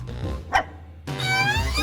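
A dog barks on command with a short yelp, then a longer, louder run of barking, all close and with no talk over it.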